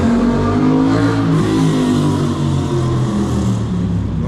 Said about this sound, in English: Noxious fucking crotch rockets. Making all that noise.